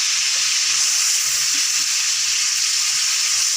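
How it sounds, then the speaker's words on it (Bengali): Fish sizzling in hot oil in a pan, set in to braise once the oil has risen to the top; a steady, even hiss holds throughout with faint low clicks underneath and no talking. "এখন দিয়ে দেবো আমি মাছটা কষাবার জন্য"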